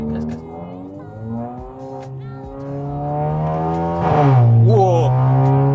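A Korean turbocharged petrol car's engine drones and climbs steadily in pitch under a half-throttle pull, swelling louder near the end with a sharper rev, heard close and continuous.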